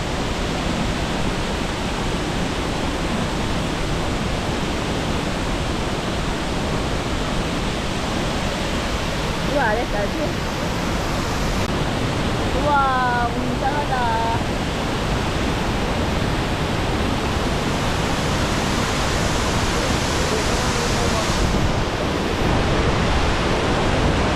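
A waterfall roars steadily in Doi Inthanon National Park, Chiang Mai, as a loud, dense rush of falling water heard up close. It fills the whole stretch without a break, and faint bird chirps briefly break through midway.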